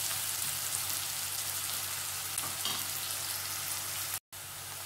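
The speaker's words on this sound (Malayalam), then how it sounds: "ഇനിയിപ്പോൾ ഈ സവാളയും ഒന്ന് ചെറുതായിട്ടൊന്ന് ഫ്രൈ ആയിട്ടൊന്ന് ട്രാൻസ്പെറൻ്റ് ആയിട്ട് വരുന്നവരെ ഒന്ന് വഴക്കണം" Sliced onions and garlic sauté in a pan for chicken fried rice, giving an even, close hiss of frying with a faint clink partway through and a brief dropout near the end.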